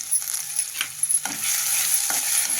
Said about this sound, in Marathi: हे आलं, लसूण, कोथिंबीर, हिरवी मिरची पेस्ट, हे छान परतून घेऊ आपण.